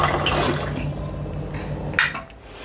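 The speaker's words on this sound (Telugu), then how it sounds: "సో ఇప్పుడు 250 ml వరకు వాటర్ పోసేసుకుందాం." Water, about 250 ml, pours into ginger garlic paste in a cooking pan, a steady close splashing rush over a low background hum, with a brief louder splash near the end.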